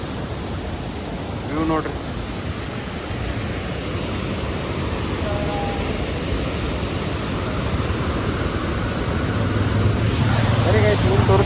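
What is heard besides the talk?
waterfall in Munnar during monsoon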